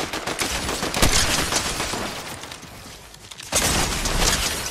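Sniper rifle fire from the video game Fortnite rings out in sharp, loud cracks, with a burst early on and another strong volley near the end over busy game noise.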